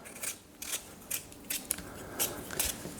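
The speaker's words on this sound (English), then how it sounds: "So let's start by peeling our potatoes." Potatoes being peeled by hand in a kitchen: a close, quiet series of about six short scraping strokes at a steady rhythm, with no talking.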